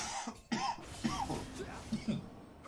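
A commentator for an esports match coughs several times in short bursts between stretches of his own speech, close to the microphone.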